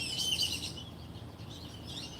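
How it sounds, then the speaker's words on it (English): Grackles calling: sharp, high chirps ring out close and clear at first, then settle into fainter, scattered calls over a quiet background. "They're these birds called grackles, and they're hilarious, but they're super loud"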